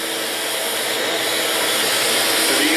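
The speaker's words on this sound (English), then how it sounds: "So if it takes a half hour standing here with a vacuum," A vacuum sucks up killer bees during a removal, giving a loud, steady, high-pitched whooshing roar that runs continuously with no break and drowns out everything else.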